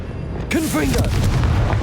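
A Confringo spell explosion in the Hogwarts Legacy video game bursts as a loud, deep boom and keeps rumbling afterward, with a brief vocal sound during the blast.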